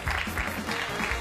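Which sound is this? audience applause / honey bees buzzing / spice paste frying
audience applause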